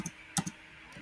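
A few quick computer keyboard clicks in a React coding session: one light tap, a louder pair of keystrokes near the middle and a faint tap at the end, close and dry with quiet gaps between.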